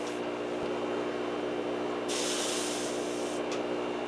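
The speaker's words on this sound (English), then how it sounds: "spray it down." A pump spray bottle mists water over soil sown with seed. The hiss runs steadily against a constant background, and a brighter spray burst rises midway before easing off.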